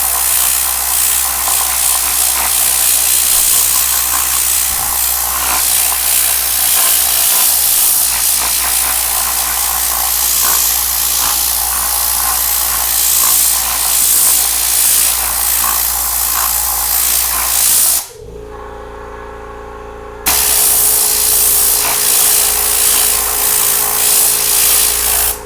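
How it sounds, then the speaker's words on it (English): A Tornador air cleaning tool driven by a Stealth 12-gallon air compressor blasts a loud, steady rushing hiss of air, cutting out abruptly for about two seconds, leaving a low compressor hum, before the blast resumes. "we'll try it out with some other air tools. One of my favorite here is the Tornador tool for cleaning out air mats and carpets"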